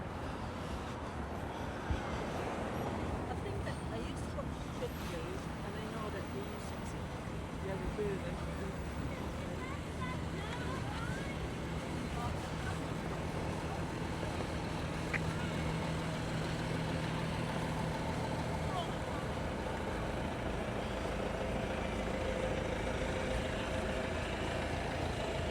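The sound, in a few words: road traffic in Blackpool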